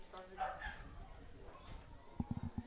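A dog barks in a short quick burst of yips near the end, faint and distant at a varsity softball game, after a stretch of talk.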